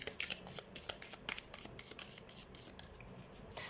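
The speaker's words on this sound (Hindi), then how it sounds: "तो सबसे पहले हम कार्ड शफल कर लेते हैं कैंसर साइन।" Tarot cards are shuffled close by in a quiet room, with rapid repeated papery riffles and soft slaps arriving in quick irregular bursts, faint but distinct, with no talking.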